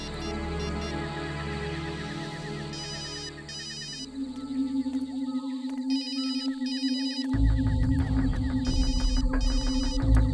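A phone ringtone trills in repeated electronic bursts, layered with tense dramatic music and droning score from a Hindi television drama, getting louder toward the end.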